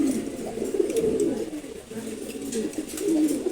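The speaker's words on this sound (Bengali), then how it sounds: "এখানে আছে সিলভার গুড়রা, তারপর আছে ঘিয়া চুল্লি, আর এখানে আছে হচ্ছে এটা ব্লুবার রেসিং নর কবুতর" Silver and blue bar racing pigeons cooing nearby, overlapping low throaty rolls repeating steadily, with a faint voice in the background.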